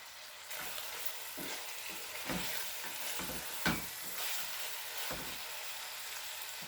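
Lamb curry sizzling in a pan as it is stirred, with a constant soft frying hiss and occasional scraping stir strokes, quiet and close, with no voices.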